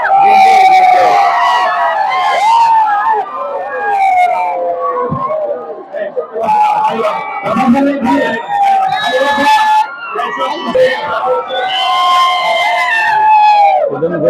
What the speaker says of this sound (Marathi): तुफान अशी गर्दी आहे या ठिकाणी